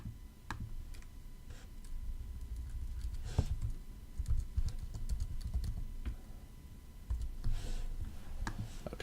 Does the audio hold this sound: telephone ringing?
no